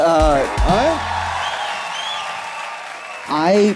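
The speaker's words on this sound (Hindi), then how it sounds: "ताली बजाइए इनके लिए।" A studio audience at a comedy talk show breaks into a diffuse wash of clapping and cheering in the middle, with someone talking loudly just before and again as it fades.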